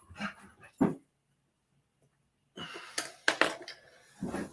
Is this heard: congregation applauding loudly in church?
no